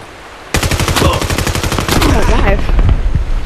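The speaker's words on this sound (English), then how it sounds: "That guy shot me, and then I just shot you." Rapid automatic gunfire from the VR shooter game Vail VR in a free-for-all match, a loud sustained burst of closely spaced shots with scattered echoing impacts, with faint voices underneath.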